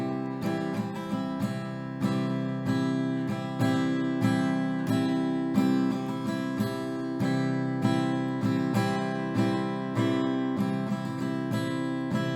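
Acoustic guitar strummed at normal tempo in a steady, repeating down-and-up pattern, each stroke ringing full chords in an even rhythm throughout, close and clear with no talking.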